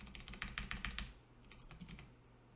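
Quiet bursts of computer keyboard typing, a quick cluster of soft clicks followed by a short pause and a few more scattered keystrokes, heard close by in a quiet room with no talking.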